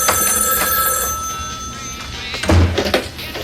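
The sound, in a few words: telephone ringing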